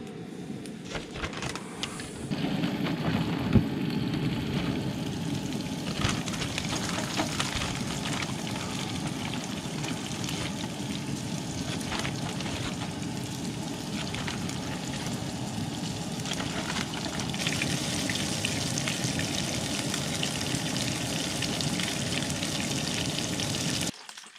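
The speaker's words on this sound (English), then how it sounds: "We got some oil frying with some garlic still in there from earlier today." Cusk fish nuggets fry in hot oil with leftover garlic at a winter wilderness camp, a steady dense sizzle and crackle running loud and unbroken throughout, with no talk.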